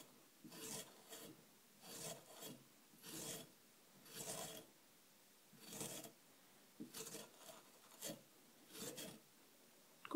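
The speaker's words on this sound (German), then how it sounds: "Nehmen jetzt die Reibe zur Hilfe und gehen mit der Seite, wo wir die Schale entfernt haben" Peeled ginger is rubbed over a kitchen grater in about a dozen quiet, evenly spaced rasping strokes, each a short scraping burst with brief pauses between.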